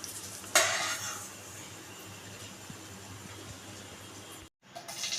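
Eggs fry in a pan with a soft steady sizzle, broken by a sharp clatter of a utensil against the pan near the start and a brief gap near the end.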